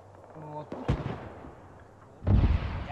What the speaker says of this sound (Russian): Пушка там стоит, там выстрел был только что.